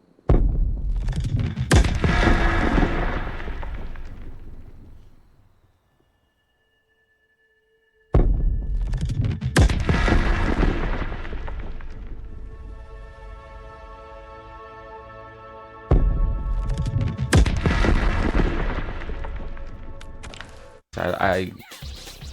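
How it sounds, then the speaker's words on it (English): In Mortal Kombat Invasion Mode on Nintendo Switch, a loud explosion bursts and rumbles off, then repeats in a loop as the same blast returns about every eight seconds with a near silent gap between, and a voice talking over parts. "the sound kind of loops. So you hear like the explosion,"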